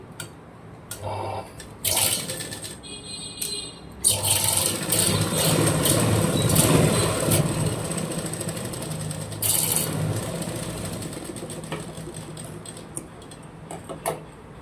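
A sewing machine runs in bursts while stitching the folded edge of a blouse, with short whirring starts and stops early on, then a longer steady mechanical hum with ticking before it winds down.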